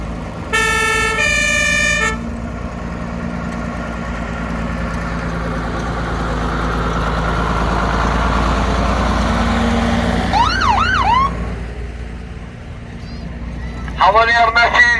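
Scania fire engine at a vintage vehicle event in Scotland, a low engine rumble rolling past with brief two-tone horn blasts and short wailing siren sweeps, people talking nearby.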